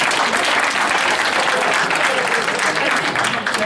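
An audience at a live event claps loudly and steadily, a dense, continuous wave of applause lasting the whole moment.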